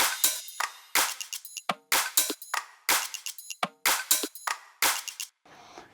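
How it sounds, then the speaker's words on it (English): A studio drum groove assembled from drum loops and hi-hats plays alone, with sharp repeated hits in a steady rhythm, bright crisp transients and short gaps between beats. "Let's hear all the drums together so you have an idea of the groove."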